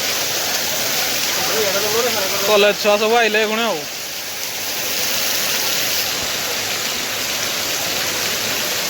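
Heavy rain pours down in a continuous loud hiss during a trip to the market in Angul, and a voice speaks briefly partway through.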